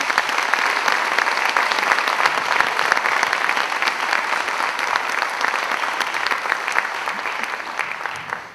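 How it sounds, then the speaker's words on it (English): An audience in a school performing arts center gives a sustained round of applause after a performance, loud, dense and even throughout before fading slightly at the close. "How about one more round of applause for a great job?"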